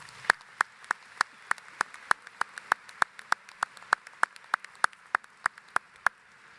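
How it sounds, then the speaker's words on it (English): Steady, evenly spaced claps at an annual member meeting, sharp and regular at about three per second for several seconds, sounding thin, like only a few hands rather than a full crowd. "Let's give them a round of applause."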